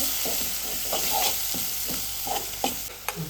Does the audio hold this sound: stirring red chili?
yes